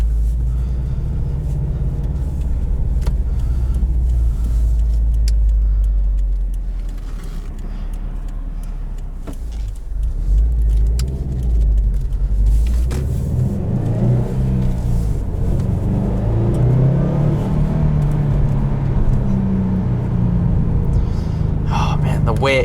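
A 2019 Subaru WRX STI drives and accelerates with a deep, loud engine rumble from inside the cabin. The engine dips briefly, then rises again in pitch as it pulls, and voices talk over it.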